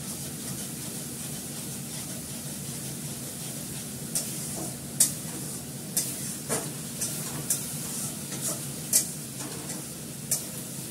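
Oil sizzles steadily in a kadai as spices are sautéed, with a continuous hiss broken by scattered scraping stir strokes and a few sharper clacks of the spatula against the pan.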